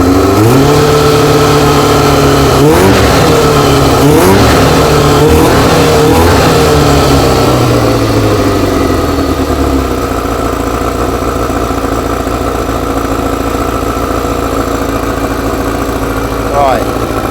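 Kawasaki ZX6-R motorcycle engine revving through a few rising blips, then settling into a steady, loud idle that runs on alone.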